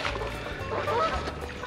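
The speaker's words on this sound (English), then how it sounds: "We're causing trouble with the geese." A few geese honk faintly in the background over a low rumbling ambience, brief scattered calls.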